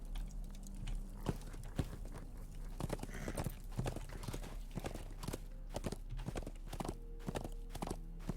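Horse hooves clip-clop steadily while riding in the Lord of the Rings Online video game, a continuous walking rhythm with a low steady hum underneath and no talk.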